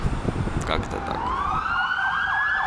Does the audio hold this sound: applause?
no